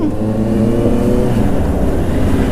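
Honda CBR rental motorcycle fitted with a Moriwaki exhaust, its engine droning loud and steady close by with a low, throaty rumble and slight rising revs, no talking.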